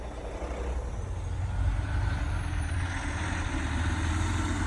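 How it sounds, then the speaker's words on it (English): A truck engine runs close by with a steady, smooth low rumble that swells slightly partway through, with no voices. "Beautiful truck."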